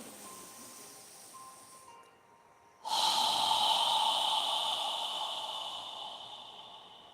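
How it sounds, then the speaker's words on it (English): Slow, deep yoga breathing: a long, soft inhale through the nose, a brief pause, then a loud, prolonged exhale through the mouth that gradually fades, close to the microphone with no talking. "slowly inhale through our nose, filling our lungs completely with air, and then slowly exhale through your mouth with control"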